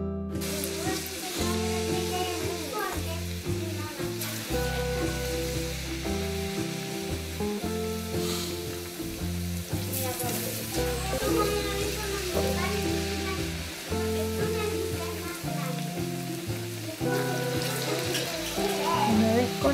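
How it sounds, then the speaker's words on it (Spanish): Pieces of Venezuelan yoyo dough frying in hot oil, a steady close sizzle and crackle that runs throughout, with clattering stirs and scrapes of a utensil over it. "Una vez cortadas, vamos a freír."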